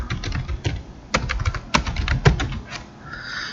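Close computer keyboard typing while writing code, a quick irregular run of crisp key clicks with a few harder presses like the enter key, no voices.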